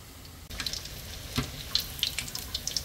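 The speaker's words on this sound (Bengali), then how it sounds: "তেলটা গরম করে নিয়েছি, আস্তে করে ছেড়ে দিব, ভেজে নিব লাল লাল করে" Kofta balls dropped into hot oil over medium-high heat crackle and sputter after a brief quiet start, with scattered pops over a soft, close, fairly faint bubbling.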